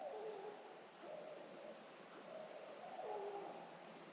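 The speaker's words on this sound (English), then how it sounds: "a barred owl calling behind me" A faint barred owl hoots in the distance, a few soft descending calls repeating over a steady hiss of background noise.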